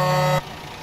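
Brief, loud blare of a truck horn over the engine, cutting off sharply and leaving the engine running underneath.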